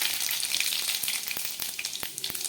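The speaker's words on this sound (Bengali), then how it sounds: "এই গরম তেলের মধ্যে আমি একটু 5 ফোড়ন দিয়ে দিচ্ছি।" Panch phoron spices hit hot oil that was just used to fry lentil bori, crackling loudly close by with a busy sizzle and several sharp pops.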